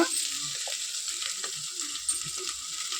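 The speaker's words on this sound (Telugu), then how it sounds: "కొంచెం పెద్దగా వేగనివ్వాలి కొద్దిగా వేగాక" Oil in a pan sizzles steadily while ingredients fry for chicken bagara rice, a close, even hiss with faint scattered stirring and tapping sounds beneath; no talk.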